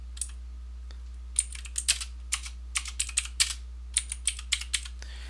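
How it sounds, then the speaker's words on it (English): Someone types on a computer keyboard while working in a Microsoft Excel spreadsheet, producing bursts of close, clicky keystrokes in an uneven rhythm over a steady low hum, with no speech. "I'll just type Use Secondary Axis."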